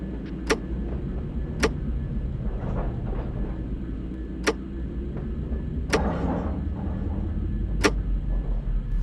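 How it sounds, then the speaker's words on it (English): Train cars in the Run 8 railroad simulator bunching and stretching during switching, sharp metallic slack crashes banging about half a dozen times at irregular intervals over a low rumbling engine bed, with no talk. "The crashing you're hearing is the slack being taken up and then let out again"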